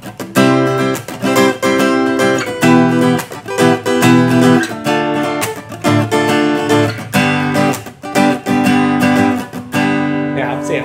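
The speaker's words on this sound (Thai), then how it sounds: "GA ตีคอร์ดกันบ้างนะครับ" Acoustic guitar strummed in steady chords, loud and close, with a bright, sharp attack on each stroke and no talking over it.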